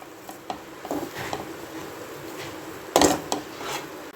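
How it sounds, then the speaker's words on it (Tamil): Ragi flakes kesari with sugar and cardamom powder stirred in a pan, a spoon scraping and clinking against the metal in irregular strokes, with one louder knock near the end. "நல்லா கிண்டி கொடுங்க."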